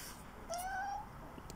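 A house cat gives one short rising meow, faint and slightly distant, in a quiet room with soft background hiss.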